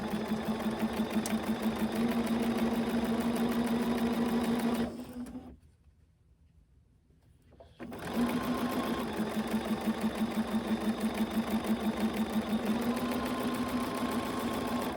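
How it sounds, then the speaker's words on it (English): A sewing machine hums steadily and close while stitching curved seams on a fabric face mask, pausing briefly in the middle before running again at the same even speed. "I'll just take my time sewing these curves."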